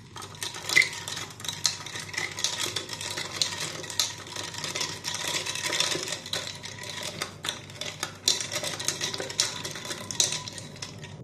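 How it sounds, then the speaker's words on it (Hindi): Raw mango sharbat with ice cubes, black salt, crushed pepper, lemon juice and water is stirred in a vessel, giving soft, quick, steady clinking and rattling of ice against the container, fairly quiet and without talk. "इन सब चीज़ों को अच्छी तरह से मिक्स कर लें।"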